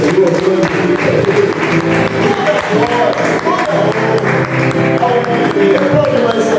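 A church congregation meeting in a garage applauds during a Portuguese-language service, loud sustained clapping mixed with voices and a tonal musical backdrop, continuous without pause.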